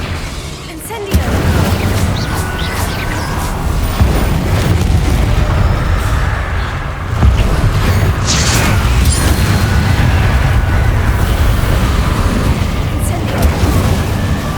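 Spell-casting in Hogwarts Legacy, the Incendio fire spell in a dense, continuous rumble of bursts and booms that starts abruptly after a second and continues loud throughout, with voices speaking amid the din.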